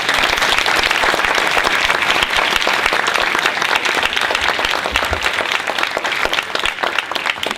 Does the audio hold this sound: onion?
no